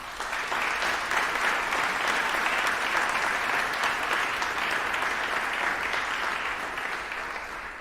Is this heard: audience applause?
yes